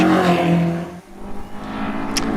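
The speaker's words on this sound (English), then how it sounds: "Nick Stevens in the lovely little G4 Ginetta with a Ford engine in it" Ginetta G4 sports car with a Ford engine racing uphill, a loud nearby engine drone that dips briefly mid-run and then picks back up.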